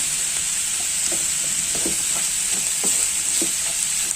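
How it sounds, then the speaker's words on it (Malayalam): Mixed vegetable thoran fries in a pan with a steady, loud, hissing sizzle, while a spoon stirs it in light, scattered scraping taps close up, without talk. "പിന്നെ ചെറുതായിട്ടൊന്ന് ഇളക്കി കൊടുക്കുകയാണെങ്കിൽ ഇതൊന്നും പിടിക്കാതെ കാര്യം നമുക്ക് നല്ല മിക്സ് ചെയ്യാം"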